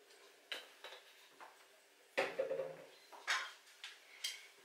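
Plum cake batter with milk, vanilla and orange zest being mixed in a bowl, giving a series of light clinks and scraping taps of utensil against the bowl, irregular and close, with a louder clatter midway.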